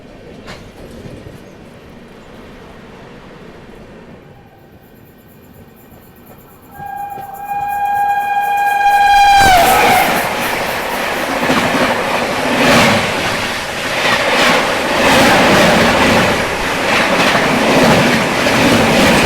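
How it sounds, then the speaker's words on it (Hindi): The Azimabad Express passes close by: distant rolling rail noise, then a loud sustained horn blast, followed by a heavy roar and rhythmic clickety-clack of wheels over rail joints as the coaches rush past. "सामने से आ रही है अजीमाबाद एक्सप्रेस, राजगीर से चलकर अहमदाबाद को आने वाली"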